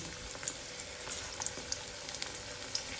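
Nigella seeds (kalo jeere) sizzle in hot oil in a pan with a steady, faint hiss, scattered small pops and crackles throughout, and no voice.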